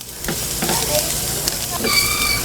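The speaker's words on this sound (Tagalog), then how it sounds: "So sa sibuyas, hintayin lang natin siya maging translucent or lumambot para lumabas yung pagkatamis niya." Onions sautéing in a pan while being cooked down for a sardine dish, a steady broadband sizzle with a few scraping stirs, close and fairly loud, with faint background sounds.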